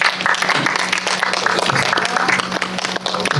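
An audience claps at a special guest-visit screening event with the director and actors of a Korean film, a loud, continuous burst of crowd applause filling the whole moment.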